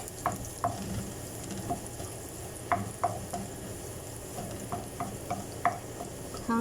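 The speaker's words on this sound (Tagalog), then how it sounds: "Igisa na natin ang ating bawang." Garlic sautéing in a pan, a steady sizzle with repeated scraping stirs of a utensil against the pan, close and alone without talk.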